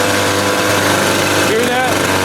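A 30 hp Evinrude outboard motor, freshly converted to UFI, runs steadily at close range with a loud, continuous hum.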